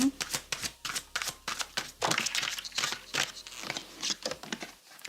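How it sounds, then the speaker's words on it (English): A deck of cards is riffled and shuffled repeatedly, crisp fluttering bursts in quick succession, close up, with no other sound. "I'm shuffling another deck now."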